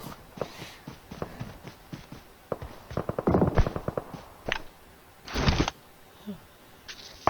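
PUBG Mobile firefight between players, with scattered single shots and quick bursts of gunfire at mixed distances, some faint and some loud and near, along with light footsteps and a little voice.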